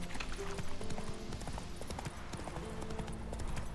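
Horse hooves clip-clop at a steady walking rhythm in the Witcher 3 video game, close and fairly loud over faint background game ambience.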